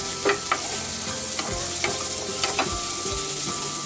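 Chopped onions sauté in a pan for a pumpkin and apple soup, sizzling steadily at close range. A spoon scrapes and stirs in several distinct strokes over the continuous frying hiss.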